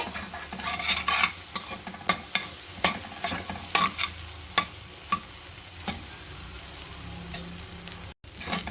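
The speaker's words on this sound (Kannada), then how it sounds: "ಸ್ಟೌವ್ನ ಸಿಮ್ಮಲ್ಲಿ ಇಟ್ಕೊಂಡು ಮೊಟ್ಟೆನ ಚೆನ್ನಾಗಿ ಬೇಯಿಸ್ಕೊಳ್ಳಿ" Eggs stir-fry in a pan on a low flame for egg fried rice. A spatula scrapes and taps in a sparse, irregular rhythm over a steady, gentle sizzle, close up and with no talking.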